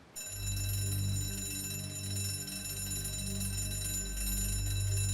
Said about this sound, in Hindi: अरे फायर अलार्म है